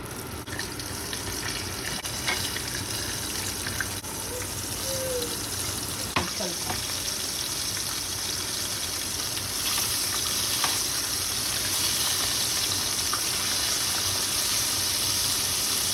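A flour-coated test piece frying in hot oil gives a steady, close sizzle and hiss that runs unbroken throughout, with a few faint clinks along the way.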